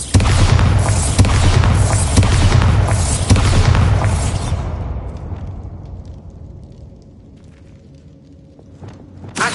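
A Bombarda spell explosion from the Hogwarts video game erupts as a loud, rumbling blast. Crackling bursts follow for several seconds, then the sound dies away into a quiet, echoing tail.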